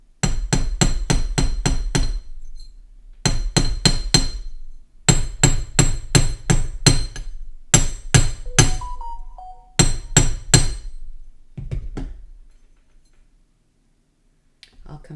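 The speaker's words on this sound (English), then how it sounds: "I'll just lightly tap the outside wires and transition the hammering." A small hammer taps wire spiral earrings in bursts of rapid, crisp metallic strikes, about five to eight quick hits per group separated by brief pauses, close and loud with a faint ringing tone between taps.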